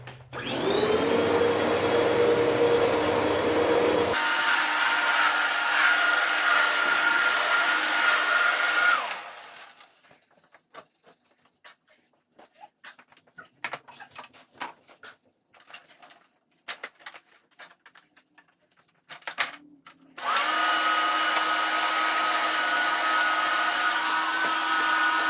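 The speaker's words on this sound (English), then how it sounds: "I'm gonna vacuum." A vacuum cleaner runs with a loud, high whine across a floor, cuts out for several seconds of quiet knocks and shuffling, then roars back on at full volume.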